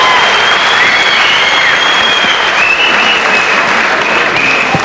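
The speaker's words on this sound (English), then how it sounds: "give Paul Briggs and Gurkan Ozkan a big round of applause" A large boxing arena crowd applauds the fighters before the bout, a dense, loud, steady wash of clapping with scattered whistles and cheers that holds throughout without letting up.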